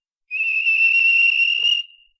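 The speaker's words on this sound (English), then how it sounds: "the whistle blew, and James thought they'd better go" A single sustained, clear, loud train whistle blows near a station for about a second and a half, then stops abruptly, heard alone with no talking.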